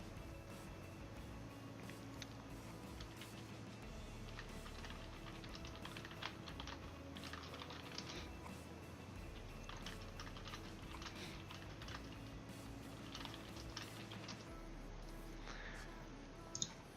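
Typing on a computer keyboard during a Twisted Fate game in League of Legends produces faint, quick clusters of key clicks in an irregular rhythm, low under a steady background hum of game sound.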